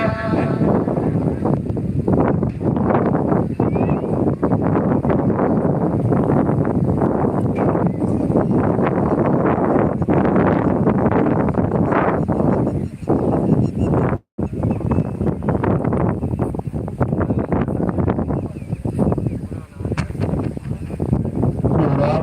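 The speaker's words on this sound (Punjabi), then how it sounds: "ਥੋੜੀ ਜੀ ਹਵਾ ਚੱਲਣ ਲੱਗੀ ਆ" Strong gusting wind buffets the microphone continuously outdoors in Matran village, Mohali, a dense rushing roar with one brief dropout partway through.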